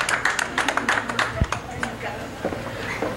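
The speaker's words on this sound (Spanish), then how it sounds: "Un aplauso" Audience applause at a beauty pageant, a burst of clapping and cheering from the crowd with talking over it.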